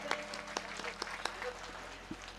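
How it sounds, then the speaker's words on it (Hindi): A crowd claps to welcome a revered guest at a Ramcharitmanas religious gathering, with scattered, uneven claps standing out over a constant low hum in a hall. "जोरदार तालियों से स्वागत करें"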